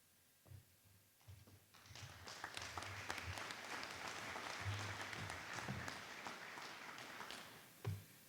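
A crowd claps faintly and at a distance, swelling to a steady patter in the middle and fading near the end, with a few low thumps, at a clinic ribbon-cutting ceremony.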